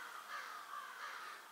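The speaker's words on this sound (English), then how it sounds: "listen to the crows," Crows caw repeatedly in snowy woods, a steady series of harsh calls at moderate distance with no talking.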